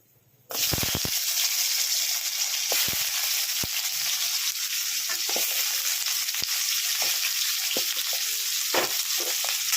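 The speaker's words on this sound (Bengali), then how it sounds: "আলুগুলোকে আমি একটু লাল লাল করে ভেজে নিচ্ছি।" After a brief quiet start, potatoes hit hot oil and fry to a reddish colour with a loud, steady sizzle, punctuated by scattered stirring clicks and scrapes, close and without talk.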